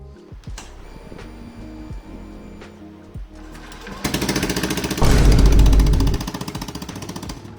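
A Honda Vario scooter engine runs with no exhaust fitted, a harsh rapid mechanical clatter that idles, then revs loudly and buzzes before settling back down.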